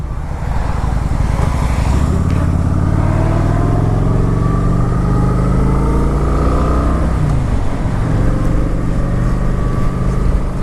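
A Kawasaki Vulcan 900 motorcycle engine drones steadily while riding, a loud, continuous low rumble with shifting tones as it changes pitch, backed by constant wind noise and no talking.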